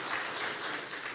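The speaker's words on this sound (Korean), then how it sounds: "박수 줍시다." A church congregation claps together in a brief, steady burst of applause, moderately distant and without talk over it.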